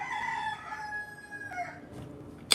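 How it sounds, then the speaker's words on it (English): A rooster crows once, a clear drawn-out call that is close and fairly loud, followed by quieter clucking and a short sharp knock at the end. "Yes, Mr. Rooster."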